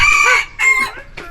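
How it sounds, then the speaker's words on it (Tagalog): A labuyo junglefowl rooster crows up close and loud in three short bursts, followed by softer clucks, with no other sounds around it. "Ito yung legit na labuyo"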